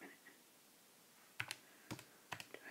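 Three quick clusters of soft plastic key clicks from numbers being typed into a calculator, close and faint against a quiet room, with no talk.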